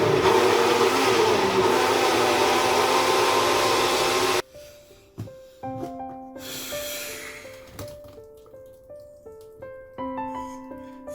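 A blender grinds onions, garlic and ginger with a loud, steady whirring roar for about four seconds, then cuts off abruptly. Its motor winds down and short rhythmic knocks and clinks follow.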